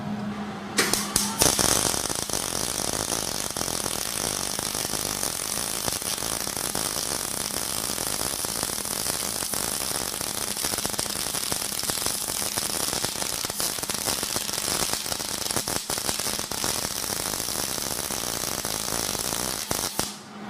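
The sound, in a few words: MIG welding gun laying a weld bead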